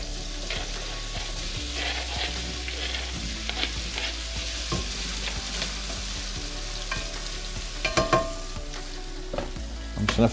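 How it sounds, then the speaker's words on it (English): Small potato cubes frying in butter and oil, a steady soft sizzle with occasional scraping stirs and a few sharper clatters near the end, close and moderately loud. "So I'm going to fry off the small cubes of potato first and add in the other ingredients after that."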